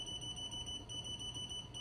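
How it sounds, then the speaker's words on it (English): A sewing machine beeps with a continuous high-pitched electronic tone, humming steadily over a low background whir, faint and unbroken throughout. "Sorry for the beeping."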